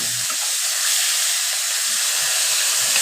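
Fish heads fry lightly in hot oil, a steady bright sizzle and hiss that runs unbroken and fairly loud throughout, close by, with no voices.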